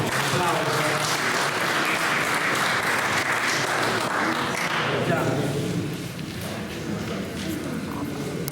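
An audience at a Sardinian poetry competition applauds loudly and steadily, and the clapping eases slightly toward the end with some background chatter.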